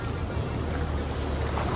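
Boat motoring on the sea off the Ballestas Islands near Paracas, Peru, a short burst of constant engine drone mixed with wind buffeting and water rush, close and steady.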